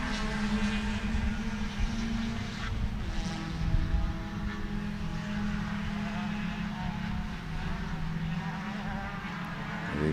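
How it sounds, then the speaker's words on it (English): Race cars at Sebring circuit drone steadily behind the speaker, a continuous engine rumble that swells slightly and stays at a distance throughout. "And you can hear the cars coming up behind me."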